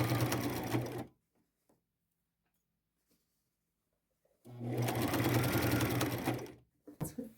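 A sewing machine stitches a fabric ruffle onto a plain white shirt in two steady bursts of close, whirring running, broken by a long quiet pause and ending with a few short stutters.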